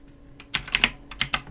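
Soft, close keystrokes on a computer keyboard: a few faint taps, then a quick burst of sharper clicks in uneven bursts, with no voices.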